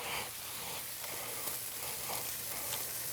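Shrimp sizzling in a pan with a squeeze of fresh lemon, a steady soft hiss of frying that runs throughout at low volume with no talk.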